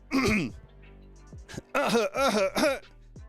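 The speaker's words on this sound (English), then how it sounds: "Let me clear my throat." A person clears their throat a few times up close, with short rasping, groaning vocal bursts separated by brief silences.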